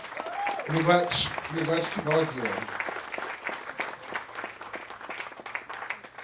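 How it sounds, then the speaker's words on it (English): Audience applause at an annual observance event, building under a speaker's voice, then continuing as steady, fairly loud clapping after the talking stops. "Let's give them another big round of applause."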